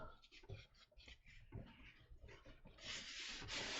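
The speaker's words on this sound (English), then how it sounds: "And then I'm going to burnish it." Paper on a Valentine album being burnished with short, close rubbing strokes, a soft scraping rhythm that turns into a brighter, steadier hiss toward the end, with no voices.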